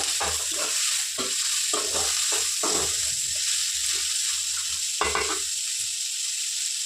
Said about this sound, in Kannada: ಎಲ್ಲವನ್ನ ಚೆನ್ನಾಗಿ ಫ್ರೈ ಮಾಡ್ಕೋಬೇಕು.